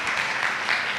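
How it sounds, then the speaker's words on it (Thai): Audience applause at a university library training seminar, a short burst of dense, even clapping from a room of people. "ขอเสียงปรบมือให้กับธนาศักดิ์ด้วยค่ะ"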